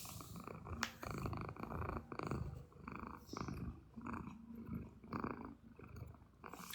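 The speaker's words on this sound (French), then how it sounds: "Je vais te confesser que d'habitude, j'aime pas les chats. Mais Maya, c'est une exception." A cat purrs steadily up close, a soft rumbling rhythm rising and falling with each breath, heard alone without talk.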